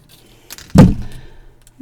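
Single sharp snip of cutters trimming the wire tails on a wire-wrapped pendant, close and fairly loud, followed by quiet.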